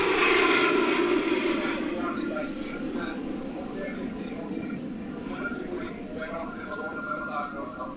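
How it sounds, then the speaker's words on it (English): An Airbus A340 makes a very steep takeoff at an airshow in Portugal, its jet engines giving a broad, steady roar that is loudest at the start and eases slightly as the airliner climbs away. "This Airbus A340 doing a very steep takeoff at an airshow in Portugal"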